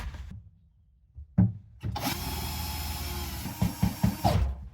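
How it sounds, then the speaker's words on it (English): A power tool cuts drainage holes in the build of a DIY coffee yatai cart: a steady, loud grinding drone that starts after a couple of soft knocks and runs for nearly three seconds with a few heavier surges near the end. "Let's try to cut some drainage holes"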